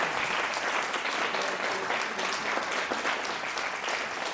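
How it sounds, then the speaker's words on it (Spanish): A warm round of applause from an audience welcoming a music teacher back to a foundation stage for a concert of Mexican songs, a steady, full crowd clapping sustained for over four seconds with no speech. "les voy a pedir que nos hagan favor de recibir al maestro Méndez una vez más con un cálido aplauso"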